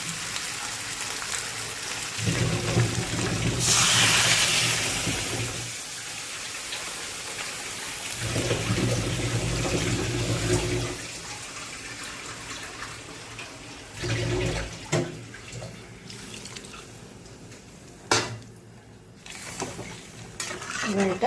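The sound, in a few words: water being poured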